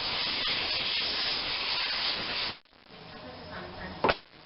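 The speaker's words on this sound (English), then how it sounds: "Blow it with some compressed air" Compressed air blasts onto a MTD YardMan lawnmower with a stainless steel body and a Honda engine, giving a loud, steady, close hiss for over two seconds, then a quieter hiss and a brief sharp puff.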